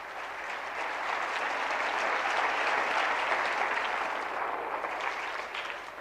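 A church congregation applauds during a Spanish-language sermon, a dense, steady wash of clapping that stays loud and even for about six seconds with no voices on top.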